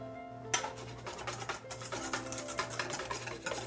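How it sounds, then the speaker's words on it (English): Whipping cream with strawberry coulis and vanilla in a bowl gives a steady, rapid scrape-and-tap of a whisk, close and continuous, over a faint background hum. "And then we're gonna continue whisking."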